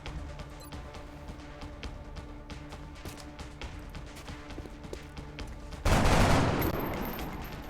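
Rapid gunfire crackles in the XCOM Enemy Within strategy game, a dense run of sharp shots over an ambient hum, ending in a louder burst of noisy fire.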